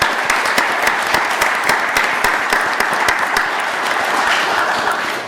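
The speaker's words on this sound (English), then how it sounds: "So let's applaud their success," A room at a city council meeting breaks into dense, steady applause honoring a school team, many hands clapping loudly and evenly throughout with no speech over it.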